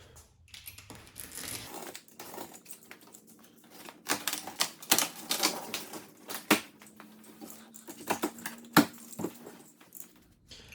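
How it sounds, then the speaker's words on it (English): A blade slices open the cardboard shipping box of a RadRover e-bike with a series of close, irregular scraping and tearing strokes and sharp crackly bursts, no voices. "So after pictures, let's cut this thing open."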